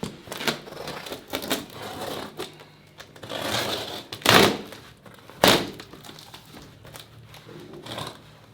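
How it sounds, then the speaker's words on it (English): Scissors cut open a cardboard mail box in irregular close scraping and snipping bursts, with two sharper rasping cuts midway and quieter rustles in between. "First things first, open the box."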